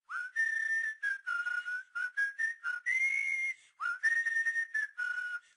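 A bright melodic whistle opens the Fanboy and Chum Chum cartoon theme song, a campfire-style tune of short phrases with brief gaps between them, clear and alone with no other sounds.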